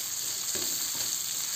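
Anchovies sauté in a wok with chilies for a home-style stir-fry, a steady close sizzle and fry with a light stirring scrape.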